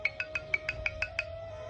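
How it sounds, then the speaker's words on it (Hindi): An incoming-call ringtone trills in a steady run of about eight short, evenly spaced pulses over a constant tone, fairly close and alone with no talk. "प्याज का फोन आ रहा है"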